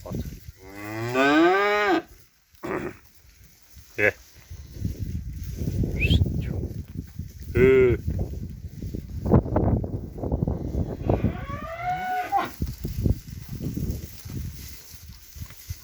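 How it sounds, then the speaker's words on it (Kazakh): Young bulls moo loudly and repeatedly out on open ground, some calls long and drawn out, others short, overlapping one another across a breezy, rumbling background. No speech. "Осындай торпақтар әкеп даладан кеше әкелдік."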